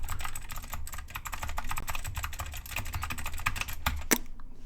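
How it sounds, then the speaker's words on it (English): Rapid typing on a computer keyboard, picked up by a VeGue VM50 USB microphone about six to eight inches away: steady close clicking keystrokes with a final sharp key tap before it stops. "test number 3 is going to be a keyboard test"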